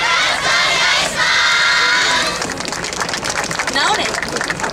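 An outdoor festival crowd cheers and shouts for a university yosakoi dance team at a waterfront venue, with a loud burst of voices followed by sustained rowdy calls and chatter.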